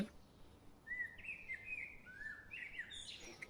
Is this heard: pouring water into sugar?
no